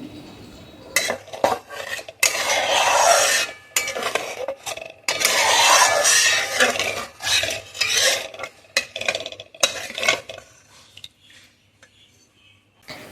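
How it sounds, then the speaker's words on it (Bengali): Spice paste is stirred and fried in a pan for posto kalia, a poppy-seed fish curry, with repeated close scraping strokes of a metal spoon against the pan, coming in uneven bursts with short pauses. "এই যে মশলাটা কষাচ্ছি"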